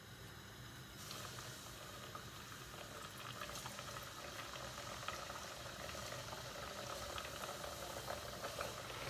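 Pişi dough frying in a pan of hot oil, a steady dense sizzle and crackle close by that swells slightly after the first second and continues unbroken throughout, with no voices.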